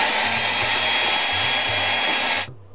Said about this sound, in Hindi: अरे हेयर ड्रायर भी है